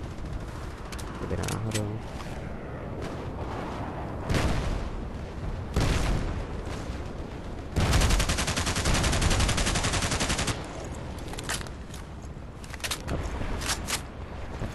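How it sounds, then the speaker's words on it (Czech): Gunfire in the online shooter Battlefield Play4Free: bursts of automatic fire and sharp shots, including one sustained loud volley, with explosion-like booms and someone talking between them. "Kde to po mně sakra střílí?"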